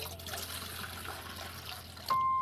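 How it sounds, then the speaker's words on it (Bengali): Water pours steadily onto moong dal for khichuri, a continuous close trickle and splash with no talking over it, ending in a brighter, louder burst of liquid near the end. "ভাবি জল ঢেলে দিল"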